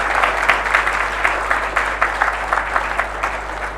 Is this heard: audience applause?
yes